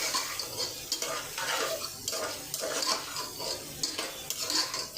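Rui fish pieces fry in hot oil in a pan, making a steady crackling sizzle broken by repeated scraping and stirring taps, close by and with no voices.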